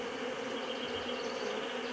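Honeybees buzz in a steady, close, continuous drone as a hive is opened for its first inspection, with no talking over the hum.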